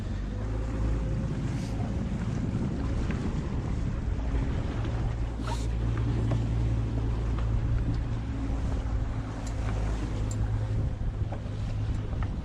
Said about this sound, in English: kill the engine.